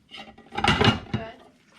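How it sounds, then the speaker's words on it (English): Dishes, pots and pans being washed, with clinking and scraping of cookware and cutlery in bursts, close and moderately loud, during a stay at an Alaska gold mining camp. "How's the dishes coming?"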